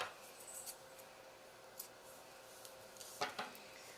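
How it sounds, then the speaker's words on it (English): Scissors snip bracelet string in a quiet room: a few faint, brief cuts scattered over a soft background, with the clearest sharp snips near the end. "And then I'll give it a little snip."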